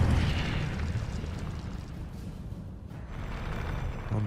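An Incendio fire spell bursts in a Harry Potter video game with a loud rushing roar that flares at once, eases off, then builds again, with no talking.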